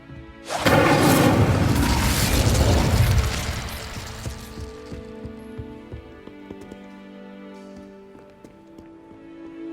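A loud fiery blast from the Incendio fire spell in Hogwarts Legacy on PS5 roars for about three seconds, then fades into a quieter ambient game soundscape with scattered small clicks and tones.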